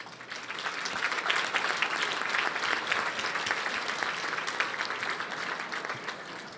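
Sustained audience applause fills the room at a personal memorial speech, a dense steady clapping of many hands that holds evenly throughout with no talk over it.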